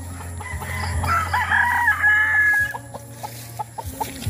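Several broodcock roosters crow loudly and close by on a farm while hens cluck in short bursts; no talking.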